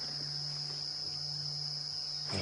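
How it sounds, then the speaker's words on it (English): A continuous buzz of insects after a couple of days of rain on a South African safari drive at sunset, a steady faint high-pitched drone with no voices, a soft rustle swelling at the very end. "You hear the buzz of insects that was almost completely absent before the last 2 days"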